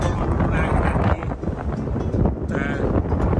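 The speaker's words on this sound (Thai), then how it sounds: "นั่นเป็นเสียงลมจริงนะครับที่เกิดขึ้นบนยอดเขาลิกกี้" Strong wind on the Rigi mountain peak in Switzerland buffets the microphone in loud, uneven gusts, a rough rumbling roar with brief dips and surges.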